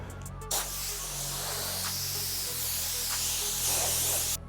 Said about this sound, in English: we're gonna use some compressed air and blow off the surface